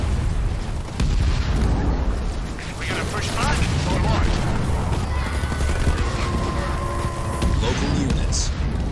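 Grenade explosions rip through a Halo Wars 2 battle against the Banished, a loud, dense barrage of booms and rattling gunfire layered with mechanical clatter and game voices throughout.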